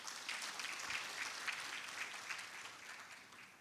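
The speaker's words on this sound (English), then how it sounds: "Let's give them a round of applause." Applause from a summit audience honouring partners in HIV service delivery, a steady dense wash of many hands clapping at moderate distance throughout, with no talk over it.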